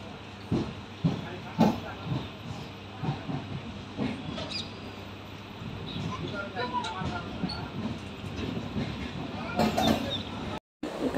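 At Mangalagiri railway station, a train hisses and rumbles while carriages clank and thump at irregular moments, and people talk nearby against the background of the platform.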